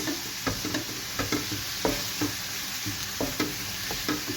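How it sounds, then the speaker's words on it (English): Three finely chopped medium onions sauté in a pan with a gentle sizzle, punctuated by regular scraping and tapping from a stirring spoon, close and fairly quiet. "I have over here 3 medium-sized onions that I've chopped up real fine. Let's saute this."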